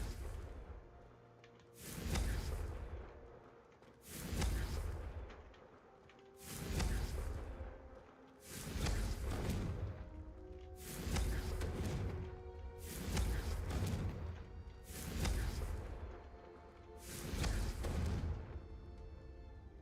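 The Confringo blasting spell is cast repeatedly in Hogwarts Legacy, eight evenly spaced whooshing bursts that each swell into a booming impact and fade, quiet and somewhat distant.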